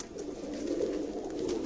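Sialkoti pigeons cooing nearby, a soft continuous low warble with a few faint wing or rustle sounds, no voices.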